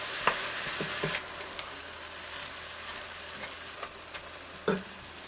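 Meat for locro fries in a pot with a soft, continuous sizzle, punctuated by a few light clinks and scrapes of stirring, close and fairly quiet.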